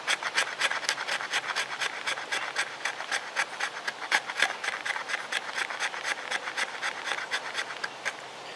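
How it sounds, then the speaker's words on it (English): A knife blade scrapes along a piece of wood to raise feather-stick fuzz, making quick, rhythmic rasping strokes repeated evenly and close up. "So this wood, however, if we scrape, it makes fuzz,"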